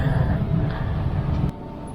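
Low steady rumble of a moving train, a continuous droning hum that shifts slightly partway through, with no clear talk.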